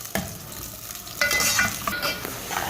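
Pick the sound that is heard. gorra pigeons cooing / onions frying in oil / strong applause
onions frying in oil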